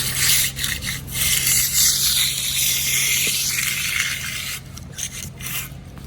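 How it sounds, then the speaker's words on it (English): A floor joint in a concrete floor being shaved, a steady loud abrasive rasping scrape running throughout with a constant low hum underneath, briefly easing near the end. "Jared's gonna shave this joint."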